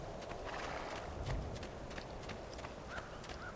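Horse hooves clip-clop in Assassin's Creed 2, a steady walking rhythm of hoof strikes against a soft ambient background, moderately close and fairly quiet.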